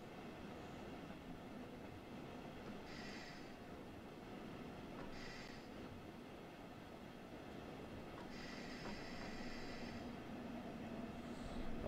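A train driven slowly toward a red signal in Train Sim World during a storm gives a steady low rolling rumble with faint rhythmic wheel clatter and brief higher squeals, continuous and fairly close, with no voices.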